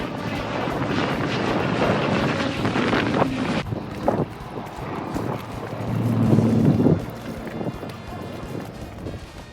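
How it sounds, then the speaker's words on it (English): A helicopter flies over a sailboat anchorage near a wildfire, a steady, rough engine-and-rotor roar mixed with gusty wind buffeting the microphone, swelling louder toward the end. "Here's the helicopter."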